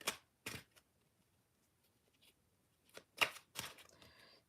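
A deck of playing cards is given a basic riffle shuffle, poker-style, heard as a few short, crisp bursts of fluttering card riffles separated by quiet pauses, close and fairly faint, with no talking.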